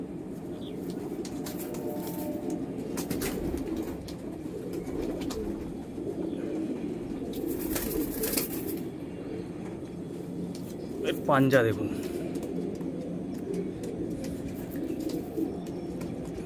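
A male pigeon of the Golden Eyes breed coos in low, soft, repeated murmurs close by, with someone talking over it and a brief fluttering burst partway through.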